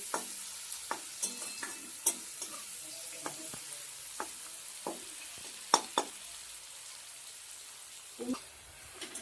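Onions frying in a pan while being stirred, faint continuous sizzle broken by scattered sharp scrapes and taps of the spoon, quiet and close, no talk.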